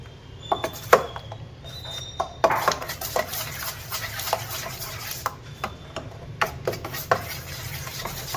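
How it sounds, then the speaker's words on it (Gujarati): A spoon scrapes and clinks against a bowl while green chutney ingredients for ganthiya are stirred together with sugar, making scattered close metallic taps over a low background hum. "આ ત્રણેય વસ્તુને બરાબર મિક્સ કરી દઈએ"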